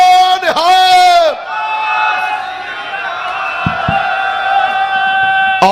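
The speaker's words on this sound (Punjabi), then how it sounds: "ਇੱਕ ਵਾਰ ਜਕਾਰਾ ਛੱਡੋ ਸਾਰੀ ਸੰਗਤ ਬੋਲੇ" A Sikh congregation at a Nagar Kirtan procession shouts the jakara war cry in unison, a loud, massed call that swells at once and then trails into a sustained roar of many voices.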